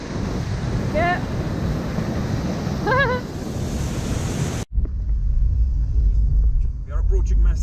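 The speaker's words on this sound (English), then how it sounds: "First of all, right side is the waterfall." A waterfall near the Chalaadi Glacier by Mestia sends out a loud, steady roaring rush of falling water and spray, with wind buffeting the microphone. Brief voices come through before an abrupt cut, and the rush then continues.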